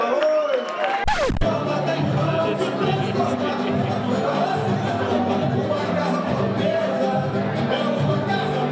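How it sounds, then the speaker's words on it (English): A party crowd at a Latino film festival media kickoff fills the room with steady clapping, cheering and chatter after a brief loud burst at the start. "Aplausos, por favor."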